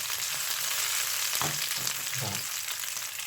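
Mixed mushrooms, including king oyster, stir-fried in a hot pan, giving a steady broad sizzle with a few louder bursts as they are tossed and stirred, and no talking.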